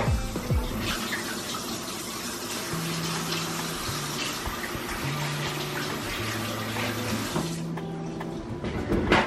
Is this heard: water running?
yes